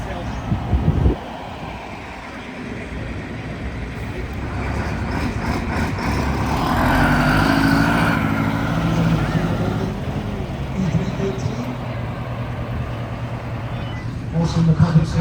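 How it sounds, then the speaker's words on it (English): A vintage public service bus, Z603 in public service colors, pulls away at a heritage bus festival, its heavy low engine rumble swelling and then easing, with people talking over it. "listen to that engine purr"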